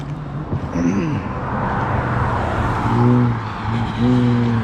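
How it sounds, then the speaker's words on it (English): Steady road traffic rumbles near a park by Great Seneca Creek, a continuous broadband wash with vehicle engine tones rising and falling as cars pass at moderate distance, loud and unbroken throughout. "Traffic noise, sorry."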